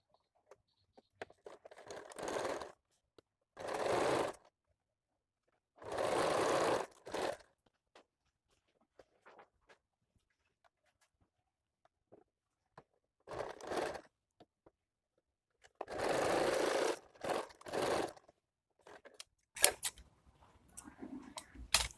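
A sewing machine joins the back and front shoulder seam of a bra-cut blouse in short, separate runs of whirring stitching, each lasting about a second, separated by quiet pauses and small handling clicks.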